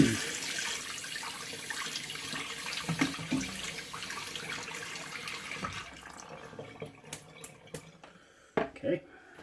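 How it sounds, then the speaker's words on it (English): Hot tap water runs in a sink as a shaving brush is rinsed under it, a steady rushing splash that thins out toward the end, followed by a few knocks and clinks. "I'm just going to take my brush, run it under some hot water"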